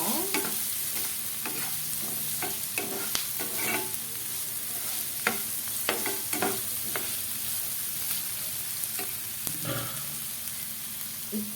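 Potatoes frying with salt and spice powder in a pan until golden, a steady sizzle with frequent scraping and stirring clatters throughout, no talking.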